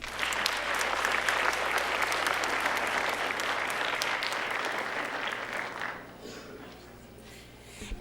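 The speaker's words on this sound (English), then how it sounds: "give a huge round of applause to Mr." A roomful of people applauds an award recipient at a superintendent awards ceremony, loud sustained clapping for about six seconds before it tapers off into a quieter room with a few stray claps.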